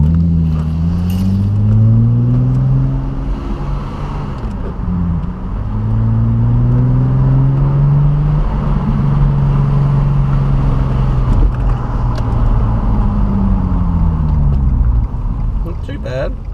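Nissan Skyline with a modified loud exhaust, deep engine drone rising and falling through several revs and gear changes while driving, close and loud, with a voice talking over it.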